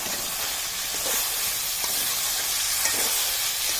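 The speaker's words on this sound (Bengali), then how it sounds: "তো আমরা আবার একটু নাড়াচাড়া দিয়ে দিচ্ছি" Raw mango pieces and mola fish with spices sizzle steadily in a hot pan, a continuous loud frying hiss with faint scraping from stirring underneath, no talking.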